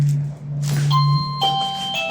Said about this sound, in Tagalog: Uy, doorbell pa.